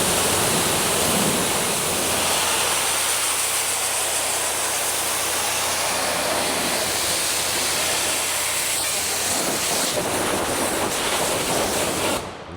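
A pressure washer sprays water close up on a Jeep during rinsing, making a loud, constant hissing roar that cuts out abruptly at the end.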